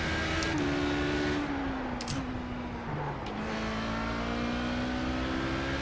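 An HPD prototype race car drives a fast lap at Le Mans in iRacing, its engine holding a loud, steady high drone with gentle pitch shifts through gear changes, no talk.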